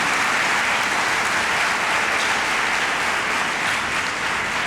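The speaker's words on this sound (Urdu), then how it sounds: "ان سب کو ہم ایک بار پھر زوردار تالیوں میں مبارکباد دیتے ہیں" A church congregation applauds loudly and steadily at a Mass celebrating children's First Holy Communion, dense clapping filling the space without pause.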